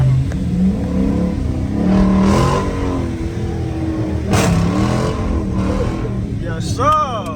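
A Dodge Charger R/T with its muffler and resonator deleted, driven slowly, rises and falls through several loud, raspy revs close by, its pitch sweeping up with each throttle blip, while someone talks over it.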